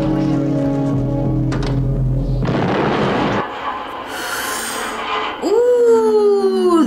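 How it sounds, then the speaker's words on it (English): An explosion from the horror film The Thing, played back at a deep booming burst that gives way to rumbling debris and then rising, ringing tones, loud and close. "That was a nice explosion."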